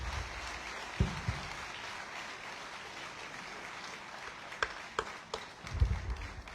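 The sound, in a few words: audience applause at a commencement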